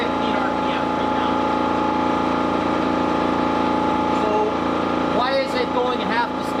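A wound rotor induction motor runs at about 1715 RPM, giving off a steady tonal hum, while a voice speaks briefly over it near the end.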